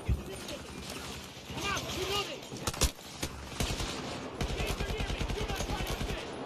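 Automatic gunfire in the video game Make Us Whole rattles in rapid repeated shots that grow into a steady fast burst toward the end, with game sounds and a sharp crack before it.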